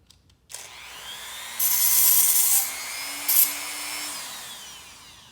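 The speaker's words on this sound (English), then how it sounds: "I'm just going to bevel the edge." A power tool grinds and bevels the edge of a homemade metal stud, made during a vintage Skilsaw 825 rebuild. A steady whining rasp rises after a brief knock, swells louder midway, then eases off.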